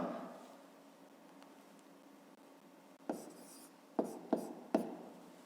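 A pen writes in a notebook during a fifth-grade maths exercise: quiet, faint scratching at first, then four short, sharp strokes in quick succession near the end.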